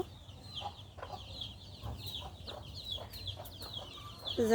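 A chicken clucks in repeated short bursts at a moderate distance, soft against faint background noise, with a louder call right at the end.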